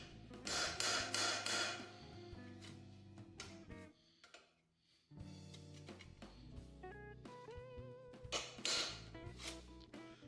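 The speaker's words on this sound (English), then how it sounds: "we will round the head of that rivet over. I do like to use a brass hammer for this" Brass hammer blows rounding over the head of a copper rivet on an anvil while fabricating a copper funnel, ringing metallic strikes in quick clustered runs with a brief pause midway, fairly quiet and without talk.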